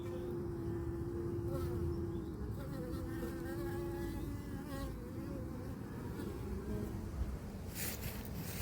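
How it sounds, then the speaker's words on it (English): Honeybees buzzing around a hive in an apiary make a dense, continuous drone, close and steady, with a few individual bees whining past at slightly different pitches. "You can hear the noise they're making. That's a happy noise."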